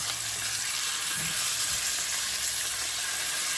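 Pork chops sizzle steadily as they brown in a hot pan, a continuous close crackle of frying with a couple of soft knocks partway through.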